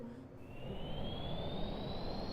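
Turbojet engines run up in the video game Kerbal Space Program, a steady roaring rush with a thin whine that climbs slowly in pitch as they spool, heard alone without talk.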